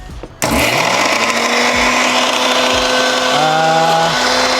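Kitchen mixer grinder whirring as it blends mint, coriander and green chilli chutney with ice, starting abruptly after a brief lull and running loud and steady with a shifting motor whine, no one speaking.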